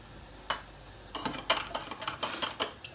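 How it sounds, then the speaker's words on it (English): Spoon scraping and clinking against a pot of melted candle wax being stirred, a few irregular knocks and scrapes at close range, fairly quiet, with no talking. "Give it a stir."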